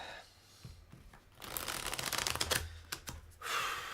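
Tarot deck being shuffled by hand, close and fairly quiet, with a few soft taps and then a rapid riffling flutter of cards in short bursts.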